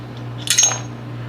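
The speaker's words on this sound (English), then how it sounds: "our sear and spring will just fall out." The sear and spring of a Sig Sauer 220 pistol fall out during disassembly with a short, bright metallic clink and rattle. The sound is close and isolated over a low steady hum.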